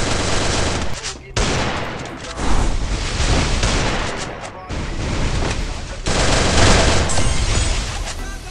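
Rapid bursts of automatic gunfire in the video game Garena Free Fire crackle densely and loudly, with short gaps between strings of shots.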